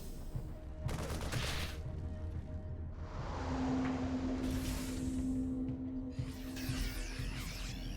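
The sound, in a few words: StarCraft 2 video game marines shooting at zerglings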